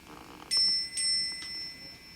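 Electric bells on a lit Christmas sign ring after being switched on, giving bright sustained tinny chimes that start abruptly and repeat a few times at close range, with no talk.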